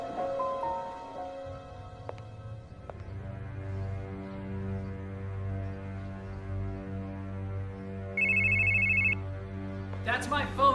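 A telephone rings with a short electronic trill burst, over a low steady hum and tonal background, with a voice speaking near the end.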